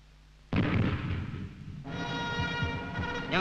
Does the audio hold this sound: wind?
no